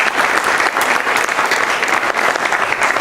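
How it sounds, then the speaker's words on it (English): Round of applause from a Quarterback Club audience at a high school football luncheon, a loud, dense and steady wash of many hands clapping throughout with no break. "So I want a nice round of applause for that"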